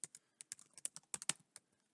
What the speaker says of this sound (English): I'm going to be typing in an email address